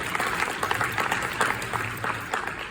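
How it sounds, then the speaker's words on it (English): Audience applause at a networking conference, a moderate, continuous patter of many hands clapping in a room, fairly even in level with slight swells. "You can give a clap right there."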